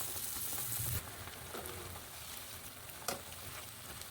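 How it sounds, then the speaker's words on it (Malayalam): Batter-coated paneer pieces frying in hot oil for paneer bajji, a steady close sizzle throughout with a louder burst at the start and a brief crackle near the end. "നമ്മൾ ഫ്രൈ ചെയ്ത് വെച്ചിരിക്കുന്ന പനീർ മാവിൽ മുക്കി ചൂടായ എണ്ണയിലോട്ട് ഇട്ട് കൊടുക്കാവുന്നതാണ്"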